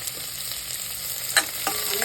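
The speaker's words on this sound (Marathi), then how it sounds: "आता मी कांदा टाकून घेते तेल चांगलं तापलेलं आहे" Chopped onion fries in hot oil in a pot, a continuous close hiss and sizzle with a couple of brief scraping stirs.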